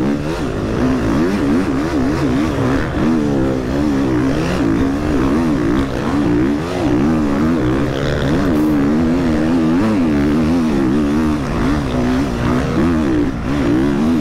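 An enduro motorcycle on the sand course at Le Touquet runs continuously, its engine droning and rising and falling with throttle changes, loud and steady the whole time, with no talk over it.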